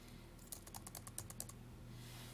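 Rapid clatter of fingers typing on a computer keyboard, a quick burst of about a dozen close, crisp key clicks over a low steady hum, then stopping.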